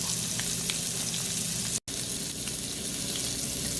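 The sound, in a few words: grouper fillet frying (blackening) in a pan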